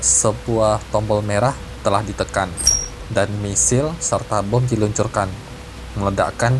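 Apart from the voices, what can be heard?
No everyday noise stands out behind the speech.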